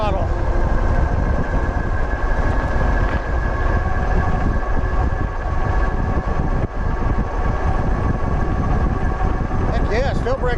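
A dual-motor Wildeway Wander electric bike with a 30Ah battery and 2600 W rating cruises on throttle alone, giving a steady broadband hum and rush of wind and road noise that stays loud and continuous throughout.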